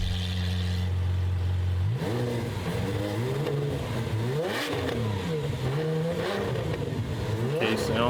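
A Lamborghini Aventador Ultimae revs with its exhaust valves closed, a muffled steady idle rising into repeated loud, smooth rev sweeps that climb and fall close by.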